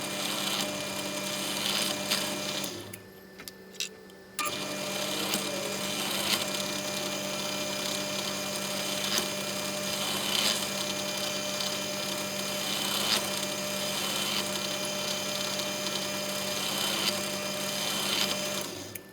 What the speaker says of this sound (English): So what we're doing is just screwing these down now.